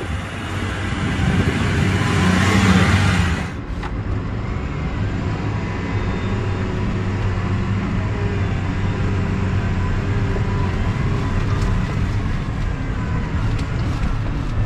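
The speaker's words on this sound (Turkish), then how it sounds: "Şimdi gaza sonuna kadar basacağım. Traktör 43 kilometreye kadar çıldırarak çıkacak." A New Holland T7.230 tractor with continuously variable transmission accelerating at full throttle in road mode, a loud steady engine drone with rising whine, a brief louder surge early before settling into sustained heavy rumble.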